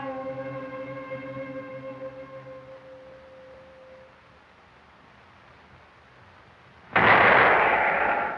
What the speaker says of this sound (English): This was the first shot heard on the island.